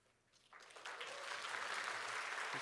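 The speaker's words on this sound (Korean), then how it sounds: "우리 큰 박수 부탁드립니다" A church congregation at a Korean Presbyterian thanksgiving worship service breaks into applause, starting faint and swelling into steady, sustained clapping.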